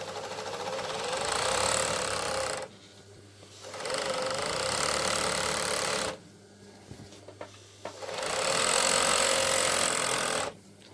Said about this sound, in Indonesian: Jadi kalau ada mesin jahit di situ harus ada juga mesin obras karena ini penting sekali untuk merapikan bagian pinggir